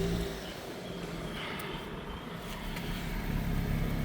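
A Nissan Note's engine runs steadily with a blowing exhaust at the back, heard up close underneath as a low, continuous rumbling drone that swells slightly toward the end.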